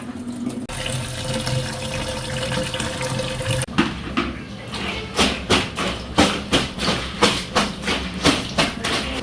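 Ginger and garlic rinsed under a running kitchen tap: a steady gush of water, then a run of rhythmic splashing bursts as the pieces are rubbed and swished under the stream.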